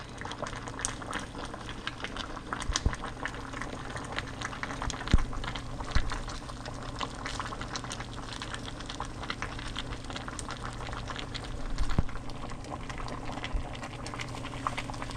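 Stew peas with oxtail, stew beef and chicken foot simmer in a pot, a continuous close bubbling boil with occasional louder pops and splutters throughout.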